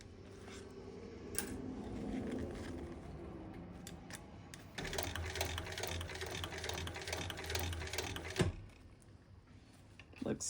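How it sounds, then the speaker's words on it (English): A sewing machine top stitching and back stitching a seam, its rapid mechanical whir running steadily and then speeding into a louder continuous burst before stopping abruptly, with quiet talk in the room. "All right, so top stitching, back stitch to keep that secure."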